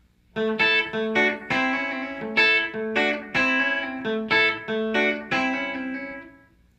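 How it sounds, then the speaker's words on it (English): A distorted electric guitar repeats a fast hammer-on and pull-off lick in chicken-picking style several times in a steady rhythm, notes flowing smoothly before a final ringing tail. "And there again is that hammer on and pull off."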